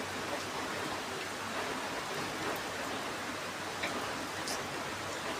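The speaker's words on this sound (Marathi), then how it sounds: "आणि पाऊस चालू झालेला आहे बघा." Heavy rain pours down steadily, a soft, even hiss of falling water with no pauses, fairly faint and distant, with no voices.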